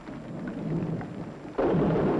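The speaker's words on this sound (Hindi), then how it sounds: "केवल ये वर्षा नहीं सही जाती।" Steady rain with a low thunder rumble that swells suddenly louder partway through, broad and enveloping, with no voices.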